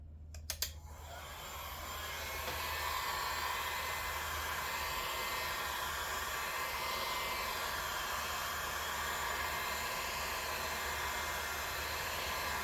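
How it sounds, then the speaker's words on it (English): A blow dryer running on high heat to warm an area on a Jeep Wrangler, switched on with a few clicks and then a steady, loud whooshing hum that carries on unbroken with no voices. "use a blow dryer on high heat to get the area warm"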